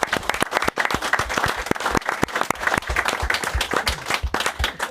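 A crowd claps at an Ipswich Town event after a women's team win, sharp dense hand claps with a few louder individual claps standing out, sustained throughout.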